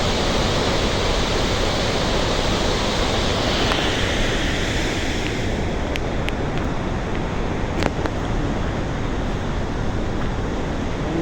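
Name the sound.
roar of a swollen river near Marsyangdi hydro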